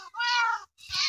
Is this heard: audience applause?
no